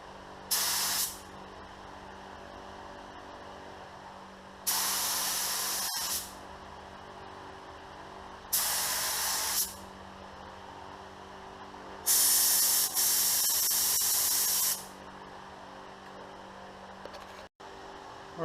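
GTI Pro Lite spray gun spraying paint onto new parts, four separate loud hissing bursts of a few seconds each, spaced apart with quiet between.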